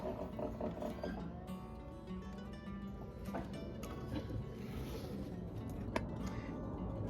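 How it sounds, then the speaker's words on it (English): A sewing machine stitches a leather clutch strap with a rapid, mechanical, rhythmic clatter, fairly quiet and close, ending in a sharp click. "This is one reason why I bought the sewing machine"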